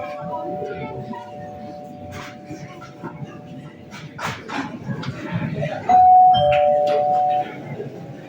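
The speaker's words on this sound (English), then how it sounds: "There goes the bell." A doorbell chimes during a stage performance of Ibsen's A Doll's House, a two-tone electronic ring sounding out clearly near the end over a quiet room with faint stage movement and voices.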